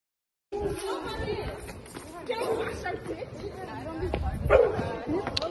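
A large dog barks and yips in a busy outdoor spot in New York, its bursts mixed into constant overlapping chatter and crowd babble, loud and close throughout.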